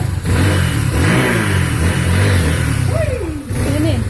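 A big-bore Honda XR150 motorcycle engine revs loudly up close, rising and falling in pitch through several throttle blips.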